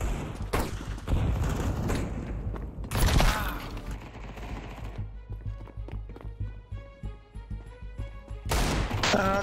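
Counter-Strike 2 gunfire: loud bursts of automatic shots crack in clusters, with mechanical clicks and rattles between them and a final burst at the end.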